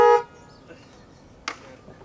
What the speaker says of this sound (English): Why are you honking the horn?